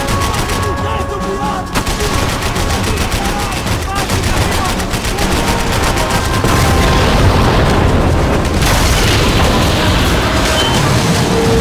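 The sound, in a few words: gunfire and bullets in the video game Max Payne 3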